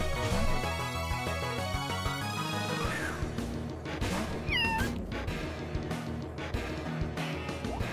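Cat Pokémon cries in the video game Pokémon Uranium: a couple of short, electronic, meow-like calls rise over looping battle music, with a sweeping sound effect partway through.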